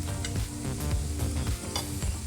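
Potato pieces frying in a pan for Karnataka-style achari aloo, a steady dense sizzle with occasional stirring scrapes, close and loud, no talking.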